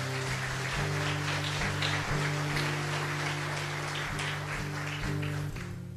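A church congregation applauds during a service, a dense wash of many hands clapping that lasts for several seconds over sustained keyboard or organ chords.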